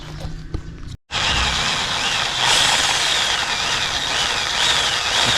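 A power drill boring a large hole for a tap on a water station at a Philippines humanitarian project, a steady loud whir running after a brief pause and continuing to the end.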